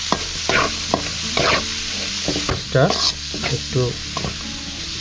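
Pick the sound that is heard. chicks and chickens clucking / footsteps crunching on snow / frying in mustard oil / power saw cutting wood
frying in mustard oil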